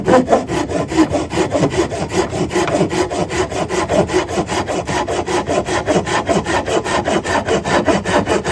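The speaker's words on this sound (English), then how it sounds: "Corona razor tooth saw" Steady back-and-forth rasping of a Corona razor tooth hand saw biting through pine, fast even strokes continuing close up without pause.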